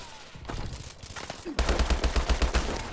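Gunfire in Call of Duty: Advanced Warfare, a few scattered shots and then a fast, dense burst of rapid automatic fire, loud and close, sitting under game noise.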